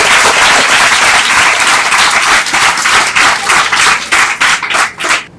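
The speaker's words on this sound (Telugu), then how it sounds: "అందరికీ ఒకసారి గట్టిగా చప్పట్లు కొట్టండి" Loud, dense applause from a gathering of students at a school event, sustained clapping that fills the space and then thins into scattered claps toward the end.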